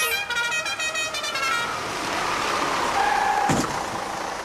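A bus sounds its horn in a long, loud, steady honk for about a second and a half, then traffic hum follows with a brief thud and a faint tone later on.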